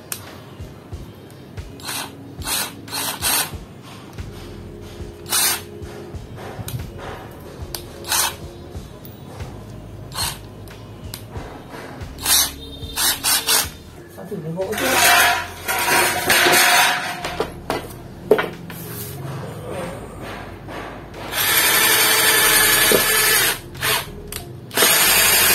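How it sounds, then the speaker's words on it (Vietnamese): A small power drill with a small HSS titanium bit whirs in repeated short bursts, with clicks and tool handling between runs and a louder grinding stretch near the end. "Mình sẽ khoan trước với cái mũi nhỏ nhất,"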